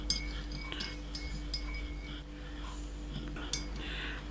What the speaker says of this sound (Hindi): 1 टीस्पून डालेंगे इसमें शुगर, चीनी। इसको भी इसमें मिक्स कर लेते हैं।